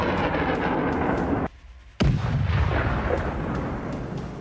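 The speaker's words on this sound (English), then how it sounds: "HIMARS operator moves in a firing position and opens fire" A HIMARS rocket launcher fires in a sustained, loud blast roar that cuts out briefly and then returns as a sharp burst followed by a rumbling whoosh.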